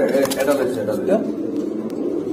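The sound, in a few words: homer pigeons cooing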